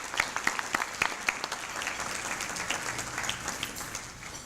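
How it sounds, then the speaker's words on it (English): An audience claps at an award ceremony, a dense burst of applause from a crowd that is strongest at first and then gradually thins and fades. "So how about a round of applause for those organizations?"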